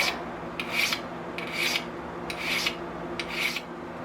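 A broadhead blade is sharpened with medium-force strokes, giving four evenly spaced rasping scrapes with short pauses between them, close and clear.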